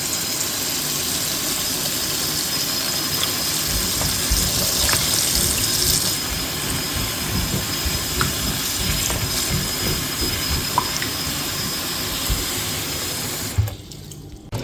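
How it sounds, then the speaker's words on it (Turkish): Tap water runs steadily into a sink while gherkins (cornichons) sprinkled with baking soda are washed, a loud continuous splashing stream with faint clinks and a brief drop near the end. "Kornişonları üzerine karbonat dökerek biraz suda bekleteceğim."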